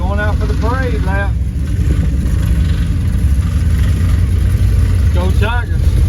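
Race cars rolling out for a parade lap at a dirt track, a steady low engine drone filling the scene while people talk loudly nearby.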